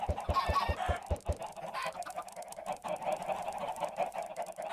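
Chickens in Minecraft 1.16 cluck and squawk in quick succession, a burst of rhythmic clucks at the start followed by a busy, overlapping flock chatter.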